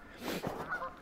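Ducks in the woods along a creek-side state park trail give a short, hoarse honking call at moderate distance, with a faint echo trailing after it in the quiet morning air.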